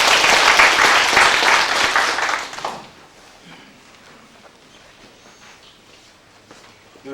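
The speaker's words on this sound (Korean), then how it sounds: "모두 큰 박수로 환영해 주시기 바랍니다." Audience applause at a university labor union branch chief inauguration ceremony and general meeting, loud sustained clapping for about three seconds that then cuts off, leaving a quiet room.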